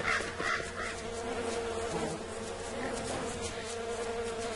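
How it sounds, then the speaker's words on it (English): Bees buzz steadily in the video game Don't Starve, a continuous droning hum with a few faint bird-like calls mixed in. "We can let these bees calm the hell down."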